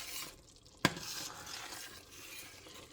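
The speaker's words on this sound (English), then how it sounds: "this needs to be stirred kind of constantly just to keep it from sticking" A spoon stirs a thick fudge mixture at a boil in a pot, with a soft bubbling hiss and a single sharp scrape or clink against the pan partway through, no voices.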